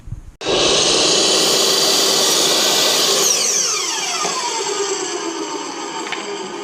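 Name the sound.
power saw cutting cedar tongue and groove board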